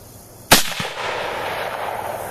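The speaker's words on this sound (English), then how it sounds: "I present to you a 1968 Buffalo Bill commemorative 30-30 rifle" A single loud, sharp shot from a 1968 Winchester Buffalo Bill commemorative 30-30 lever-action rifle fired outdoors at a jug target. A short echo follows, then a lingering rumble.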